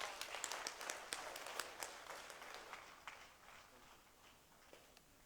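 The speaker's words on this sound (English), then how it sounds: "may I request everybody to give a big round of applause, please" Applause during a group photo at a launch event: faint, distant scattered clapping that thins out and fades over a few seconds, with low room noise.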